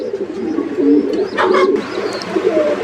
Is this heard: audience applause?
no